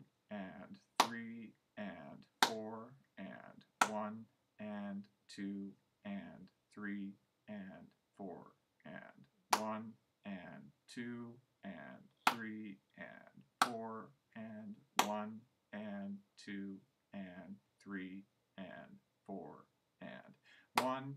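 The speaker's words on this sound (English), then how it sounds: "And now I'll count out loud and clap." Crisp, close hand claps tap out a clarinet exercise rhythm while a voice counts beats aloud, with claps and spoken counting interleaved steadily throughout.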